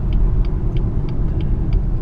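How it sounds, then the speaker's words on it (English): A 2019 BMW 440i Gran Coupe turns around on a city street, its engine a steady low rumble with road noise and faint, evenly spaced high ticks throughout. "We're just going to make a U-turn here, one of those famous Texas U-turns."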